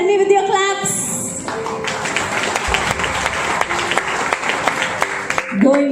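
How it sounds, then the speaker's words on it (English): An audience at a corporate supplier day event in Mumbai claps in a sustained, dense burst of applause that runs for several seconds, with a voice briefly heard at the start and end. "Tell me with your claps."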